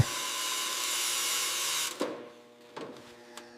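A power tool whines steadily as it cuts rust out of the metal body of a 1927 Dodge Doodle Bug, then stops abruptly. A few metallic knocks and taps follow, close and clear.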